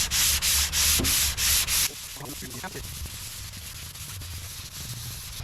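Rhythmic back-and-forth scraping of a large sanding block hand-sanding primer on car bodywork, several quick strokes close up, then stopping, with a brief spoken word.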